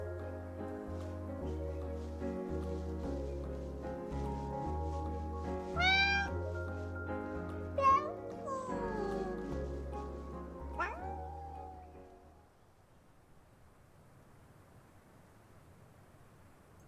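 Cartoonish cat meows from the video game Calico, several short rising calls over layered game music for about twelve seconds, then the music drops out to a faint hiss.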